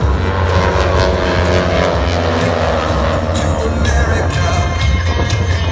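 Blue Angels jets fly in tight formation with smoke on at the 2018 Biloxi airshow, a loud, sustained roaring engine rumble that stays strong throughout.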